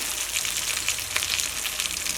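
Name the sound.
sardines frying in coconut oil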